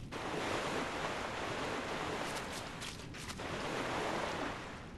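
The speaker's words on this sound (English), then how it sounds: "a little waterfall over here." A small waterfall in Dark Souls III rushes as a steady, broadband wash of falling water, moderately loud and continuous, with no voices over it.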